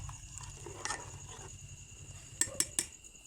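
A utensil stirs chicken dum biryani in a cooking pot, first with soft scraping, then with three sharp metallic clinks against the pot near the end. The sound is quiet and close, with no speech.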